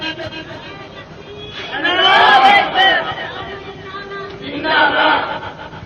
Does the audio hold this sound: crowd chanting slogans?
yes